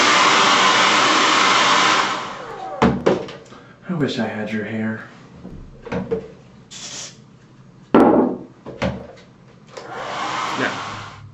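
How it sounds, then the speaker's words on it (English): Hair dryer running on high to heat a hockey stick blade, blowing loud and steady for about two seconds before cutting off, followed by talking, knocks and handling noises. "you can actually take a hairdryer on high"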